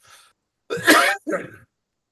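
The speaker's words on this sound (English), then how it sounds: "if I coughed in your ear, my apologies" A single harsh cough with a short second burst right after, close and clear, following a faint brief sound.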